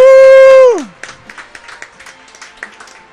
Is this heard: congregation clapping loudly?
yes